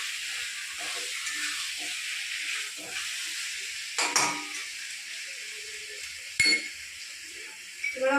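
Rui fish sizzles and hisses steadily in a hot pan, with a few metal clinks of stirring and a sharp utensil tap, close by and moderately loud.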